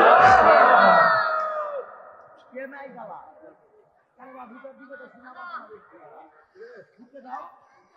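A large crowd at an Islamic sermon roars loudly in answer to a takbir call, a strong burst that quickly fades before a voice carries on speaking.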